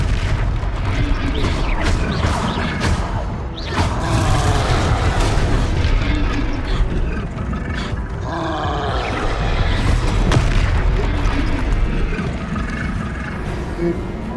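A Confringo explosive spell goes off in Hogwarts Legacy amid a loud, dense fantasy battle, with booming blasts, roars and grunts running continuously over a heavy low rumble and rising in bursts.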